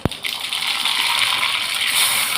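Mustard seeds hit hot oil in a kadai, a sharp splash at the start followed by a steady, close, hissing sizzle and crackle that continues to the end.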